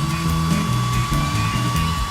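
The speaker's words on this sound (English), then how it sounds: "I'll need a blow dryer for that." Hair dryer blowing hot air over a freshly poured resin pendant, a steady close whooshing roar with a faint whine running throughout, loud and continuous with no voices.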